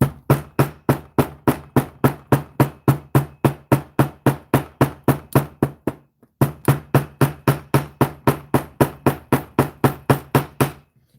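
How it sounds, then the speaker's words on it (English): A hammer strikes wire repeatedly while shaping wire-wrapped jewelry, giving sharp, evenly spaced close taps in a fast steady rhythm, with one short pause midway and no talking. "So I'm just bending this off to the side a little bit, coming in with our hammer."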